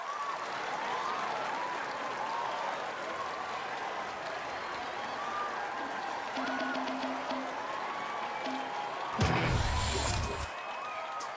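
Crowd cheering and applause in the video game Rock Band 4, a dense continuous roar of clapping and shouts with occasional whistles, and a loud burst near the end.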